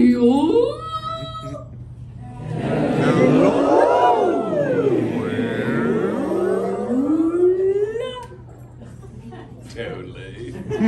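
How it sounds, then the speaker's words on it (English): A whale call sound effect plays at a live show at the Epcot International Festival of the Arts: a loud, sweeping series of moaning, rising and falling tones lasting several seconds, with crowd noise and talk around it. "Whoa, you called a real whale."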